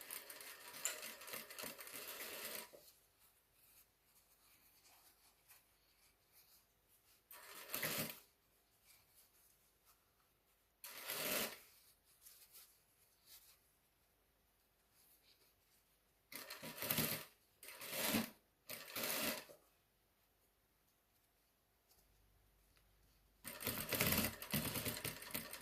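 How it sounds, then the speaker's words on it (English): A sewing machine stitching a back tack as a permanent stitch, with several short bursts of rapid mechanical whirring and clatter spaced between quieter pauses, close and without talking. "Do a back tack because it's a permanent stitch."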